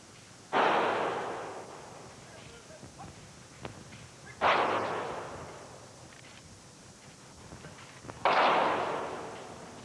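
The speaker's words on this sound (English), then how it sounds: "That is the firing detail carrying out a 21-gun salute adjacent to the USS Arizona Memorial earlier this morning" Rifle volleys of a 21-gun salute fired by a ceremonial firing detail beside the USS Arizona Memorial at Pearl Harbor: three sharp, loud outdoor volleys spaced about four seconds apart, each trailing off in a long echo.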